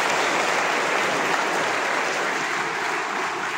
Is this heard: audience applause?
yes